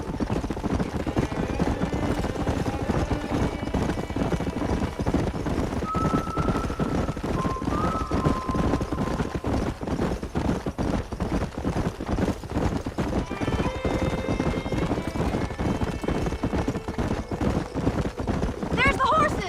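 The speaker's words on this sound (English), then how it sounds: "There's the horses!" Horses gallop with a continuous rhythmic clatter of hooves, occasional whinnies rising above, over a dense, busy background.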